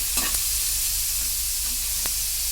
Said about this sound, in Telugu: ఇలా బ్రౌన్ రంగు వచ్చేదాకా వేసుకోవాలి.